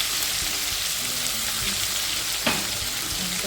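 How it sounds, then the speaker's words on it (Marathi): Asafoetida, ginger, garlic and chilli sizzle steadily in hot oil, a dense continuous frying hiss close up with faint stirring scrapes and one brief clink partway through. "तेलामध्ये परतून घ्यायचं चांगलं"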